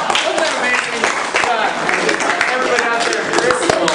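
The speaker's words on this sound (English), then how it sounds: "round of applause for everybody that's in here before me tonight" A crowd applauds loudly after comedy acts at a pledge class showcase, a dense burst of clapping with scattered cheers and a voice speaking over the top.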